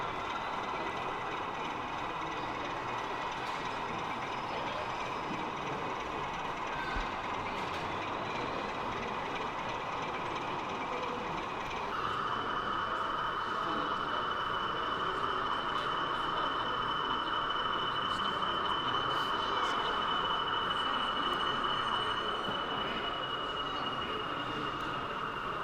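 N gauge model railway locomotives with built-in sound running at a model railway show, a steady continuous engine drone with a tonal shift partway through, heard alone.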